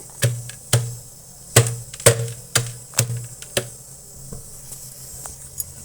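Black peppercorns being crushed for khara pongal, a series of about a dozen sharp, close knocks in an irregular rhythm, each a crisp tap against a quiet kitchen background.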